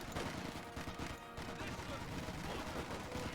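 Dense battlefield gunfire from Company of Heroes 2, Wehrmacht Grenadiers trading rifle and machine-gun fire with charging British infantry, a continuous rattle of shots with a narrator talking over it.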